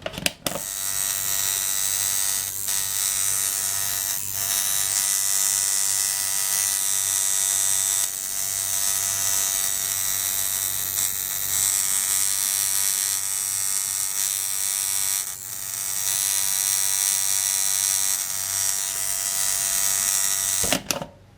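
A tattoo machine held at low voltage with a rubber band on it buzzes steadily and bogs down, giving a continuous close electric hum that wavers and sags in spots, with no voices.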